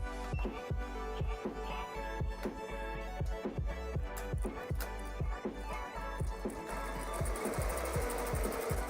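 A Ricoma embroidery machine stitches a cap with a fast, steady, regular needle thumping and a mechanical whir, continuous and close throughout.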